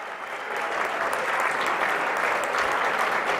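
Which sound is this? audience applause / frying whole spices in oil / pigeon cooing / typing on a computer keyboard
audience applause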